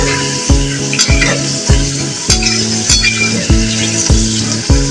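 Potato chips frying on a stove, a loud continuous sizzle of hot oil with regular rhythmic clinks of a utensil against the pan about every half second, close and unaccompanied by speech.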